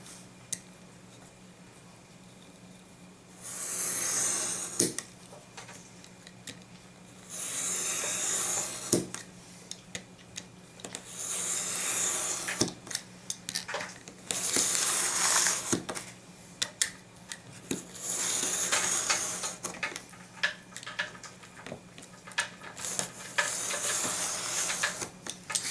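A not-very-sharp knife drawn along a steel-edged acrylic quilting ruler through notebook paper, giving several soft scraping, hissing strokes of a few seconds each, separated by quiet pauses and small ticks.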